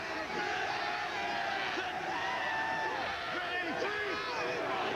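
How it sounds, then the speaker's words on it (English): A New York crowd at a 2001 XFL football game, NY/NJ Hitmen against the Orlando Rage, roars in a dense steady wash of cheering, with whoops rising over it and a commentator talking across it. "It doesn't take a whole lot to get a New York crowd excited."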